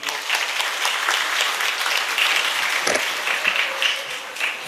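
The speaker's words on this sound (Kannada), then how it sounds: "ಎಲ್ಲರ ಚಪ್ಪಾಳೆ ಮೂರನೇದು ಅವರಿಗೆ" Audience applause at a school science exhibition, a steady, dense burst of clapping from a large crowd that carries on without a break.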